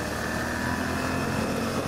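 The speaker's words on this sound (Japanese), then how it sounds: "それではねちょっとエンジンを少し回してみたいと思います" Suzuki V-Strom 800DE motorcycle engine pulling in third gear, a steady loud drone heard close up with no talking.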